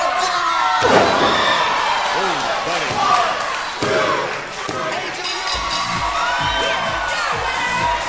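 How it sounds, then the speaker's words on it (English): A wrestling kick lands in the ring during an FCW TV match, a sharp slam rising out of a loud arena crowd that cheers and shouts throughout, with a commentator talking over the noise. "And hear that kick to the top."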